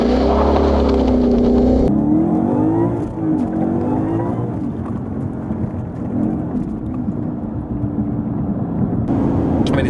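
A 600HP supercharged Mustang accelerates with a deep engine roar that climbs in pitch, rumbling loudly and continuously as it keeps pulling.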